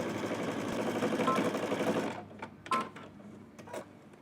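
A sewing machine stitches a hoodie cuff onto a sleeve, running steadily for about two seconds before stopping, followed by a few quieter clicks and handling noises.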